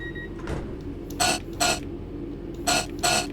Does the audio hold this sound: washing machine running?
yes